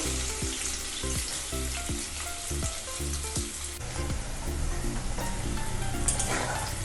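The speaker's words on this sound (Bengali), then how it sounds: "পনিরটাকে আমি এইভাবে একটু ভেজে নেব" Paneer cubes fry in oil, making a loud, continuous sizzle throughout, with a low tonal hum running underneath.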